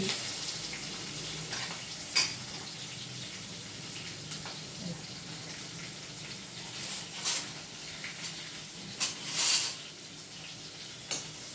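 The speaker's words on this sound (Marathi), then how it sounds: "कांदा थोडं आंबूट भाजून द्यायचं" Onion sizzles in hot oil with cumin, mustard seeds, curry leaves and chili in a pan, a steady close hiss with a few sharp crackles and spatula taps, no talking.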